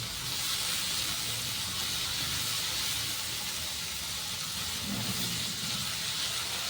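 Chopped potatoes sizzle in hot oil seasoned with cumin and chilli for an aloo methi stir-fry, giving a steady, even hiss that holds at a constant level throughout without breaks or voices.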